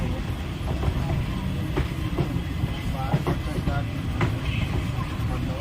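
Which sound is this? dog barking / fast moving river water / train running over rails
train running over rails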